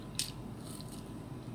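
A single sharp bite into crispy pork near the start, a brief crunchy snap followed by softer chewing, close and fairly quiet.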